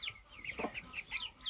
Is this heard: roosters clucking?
yes